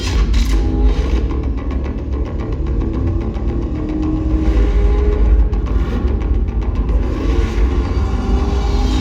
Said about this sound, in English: Across the finish line is the Corvette Grand Sport, winner of the prototype GT class.